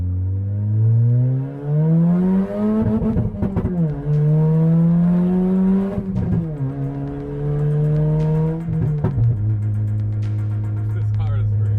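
A turbocharged Toyota Corolla accelerates hard on a drive, its engine pitch climbing through three or four gears, each shift marked by a brief drop before it rises again. The sound is loud and close.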